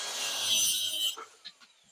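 A stretch ceiling baguette profile being trimmed, heard as a close, harsh rasp of cutting that runs for about a second, then stops and leaves a few soft scrapes and taps.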